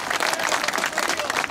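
Dense, steady applause from an audience honouring the MP at the Kaptembwa Police Station upgrade event in Nakuru Town West, sustained and fairly loud throughout with no pauses.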